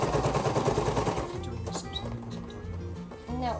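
A sewing machine stitches a sailboat bug screen in a fast, loud rattling burst for about a second, then slows to softer irregular thumps while people talk nearby.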